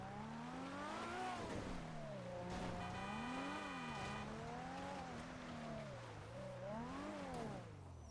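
A car engine in the GTA RP video game revs up and down in repeated swells as the vehicle drives, close and prominent, with a voice talking over it at times.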